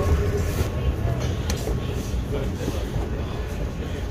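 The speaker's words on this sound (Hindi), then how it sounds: "ये हम आ गए मेट्रो स्टेशन" Inside a Dubai Metro station, a steady low rumble of train and platform noise fills the air, with speech mixed in.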